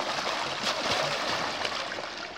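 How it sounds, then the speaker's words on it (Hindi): Water keeps gushing from a village pump pipe after the motor is switched off, a dense, steady splashing rush heard close and continuous with no talking. "अब ये मोटर को ऑफ कर दिया और ये जो पानी है इस तरह ये काफ़ी देर तक आता रहता है"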